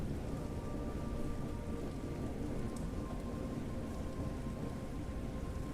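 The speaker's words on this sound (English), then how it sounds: "The storm appears to be dying down." Steady rain falls during a storm, a soft, even hiss with a faint distant rumble of thunder underneath, quiet and continuous.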